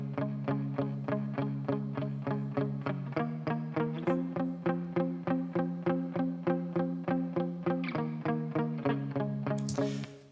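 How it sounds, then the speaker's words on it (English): Palm-muted electric guitar through a distorted amp, chugging a steady rhythm of short, evenly spaced dunk notes in a chorus section, dry with no reverb, close and consistent for about ten seconds. "And then the chorus, just for some drive, I just did this palm guitar, I called it,"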